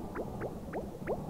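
Water flowing in the video game Oxygen Not Included, heard as four soft, evenly spaced gurgling blips against a low background hum.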